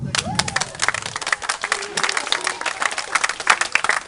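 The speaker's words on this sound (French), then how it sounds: "Voilà les équipes que j'appelle, on peut les applaudir." Applause and clapping at a tennis club doubles tournament prize ceremony as teams are called up, uneven bursts of hands with a voice briefly audible at the start.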